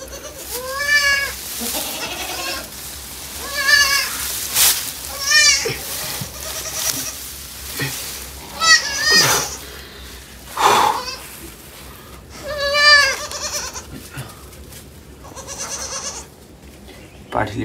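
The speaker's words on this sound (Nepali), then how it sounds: "एकछिन यो बाख्रा नि हेर्न सक्नुहुन्छ कस्तो छ" Goats bleat again and again at close range, each bleat a short wavering call with pauses between them, and a person talks quietly at times.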